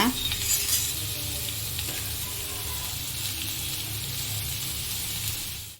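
Two chopped onions sizzling in butter in a pan for pav bhaji, a close, steady bright frying hiss with faint stirring scrapes, no voices, ending abruptly.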